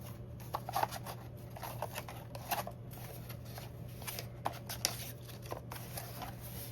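Paper postcards, some printed with Santa designs, are handled and sorted at close range, giving soft irregular rustles and light flicks over a steady low room hum, with no talking.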